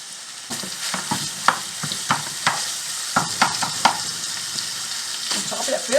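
Ground beef and sausage sizzle in a pan while a spatula repeatedly chops and crumbles the meat, giving sharp scraping strikes in an uneven rhythm over a constant frying hiss, close up.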